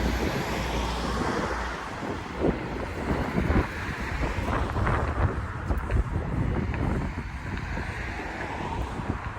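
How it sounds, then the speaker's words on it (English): Steady wind buffets the microphone in low rumbling gusts on a cold, sunny street in Frankfurt, with a broad rushing noise that swells and eases throughout. "It's now gotten really windy and really cold"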